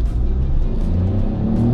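A 2021 MG ZST compact SUV engine with 115 kW and 6-speed automatic hums and builds steadily as it accelerates toward 80 at about 4,500 revs, a low continuous rumble heard from inside.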